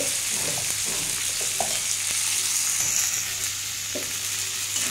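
Onion and tomato with turmeric fry steadily in a pan, giving a continuous sizzle with scattered soft stirring knocks and scrapes throughout.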